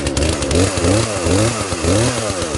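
A Poulan Pro chainsaw engine runs loud and close on a cold day, idling roughly with a rising and falling, surging rev pattern as it warms up.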